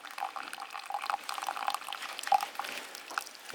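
Water drains and trickles along a hiking trail, a faint, continuous gurgle with small splashy bubbling, close by and alone.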